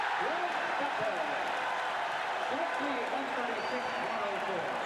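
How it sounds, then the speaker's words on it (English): A 1988 NBA basketball arena crowd roars continuously and loudly, with an excited commentator talking over the cheering. "Crowd going wild."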